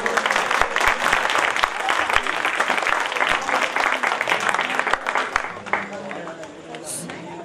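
A crowd at a village festival stage during a Khanat Puja gaon jatra claps in sustained applause that gradually tapers toward the end, with a voice speaking over it.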